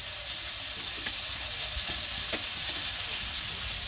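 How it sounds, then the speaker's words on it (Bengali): Sliced pointed gourd fries in a pan with a steady, broad sizzle and a few faint stirring clicks, close and unbroken throughout. "আর ওই যে পটল ভাজি"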